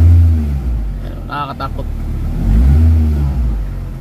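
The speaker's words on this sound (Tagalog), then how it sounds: "Mataas yung RPM, nanginginig yung makina." A Honda Fit/Jazz engine with an electrical fault idles wildly high, near 3,000 RPM, and shakes. It makes a loud, close, droning rumble that swells and eases, and someone speaks briefly over it midway.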